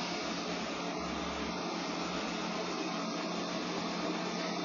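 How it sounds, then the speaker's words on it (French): A Liectroux B6009 robot vacuum cleaner runs with a steady, even whooshing hum of suction that holds at a constant level throughout, close by and alone. "Donc déjà comme aspirateur, je trouve qu'il est pas très bruyant."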